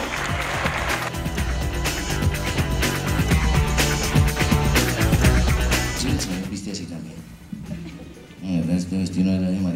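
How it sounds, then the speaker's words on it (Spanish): An audience at a comedy show applauds, the clapping blended with voices and a busy mix of sound before it thins out near the end. "Un fuerte aplauso para todos"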